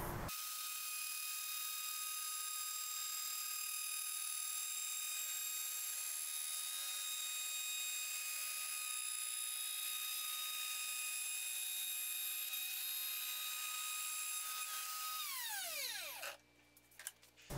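A DeWalt plunge router cutting a large wooden dowel: a loud, steady high-pitched whine holds for about fifteen seconds, then winds down as the motor spins to a stop near the end. No one speaks.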